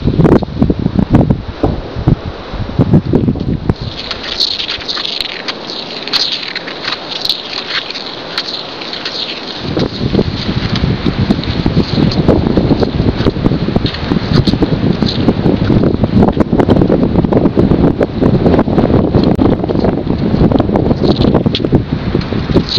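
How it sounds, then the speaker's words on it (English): Wind rushes steadily past a cross-country skier heading downhill, loud, continuous buffeting with rustling gusts and no voices. "Going down, I have the wind at my back."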